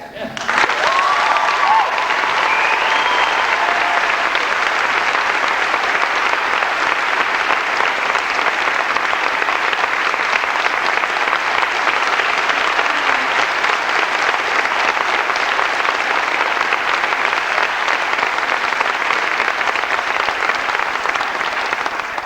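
Warm sustained applause from a church audience at North Anderson Church of God welcoming a singer, a dense even roar of clapping filling the hall for over twenty seconds, with a brief voice at the start.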